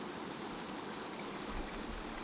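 Clear mountain creek in Idaho's Sawtooths, strewn with deadfall, flows as a steady, soft broadband rush of water, quiet and continuous with no voices.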